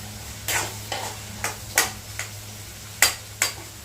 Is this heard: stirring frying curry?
yes